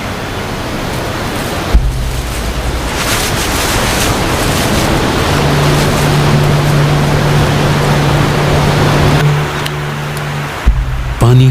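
The Kali Gandaki river rushes loudly through a mountain valley in a constant roar of water, with a low hum running underneath for much of the stretch.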